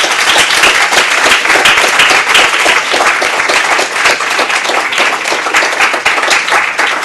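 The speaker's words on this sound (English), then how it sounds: "Would you all join me in a big clap for Geeta and our panel?" A large audience applauds steadily for a development award panel at a formal policy event, dense sustained clapping filling the room from start to finish.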